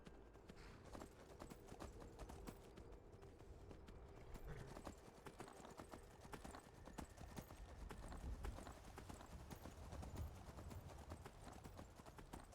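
Horse hooves clip-clop steadily at a riding pace in the video game Skyrim, a continuous rhythmic clatter that stays faint and even throughout.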